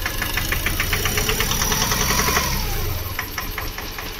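A VW Polo engine idles with a steady low rumble and a rapid, regular knocking tick from an engine fault running through it, close and fairly loud.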